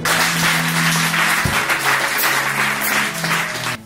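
A church congregation applauds the Lord in a steady, continuous wash of clapping, with a low sustained organ or keyboard tone running underneath throughout.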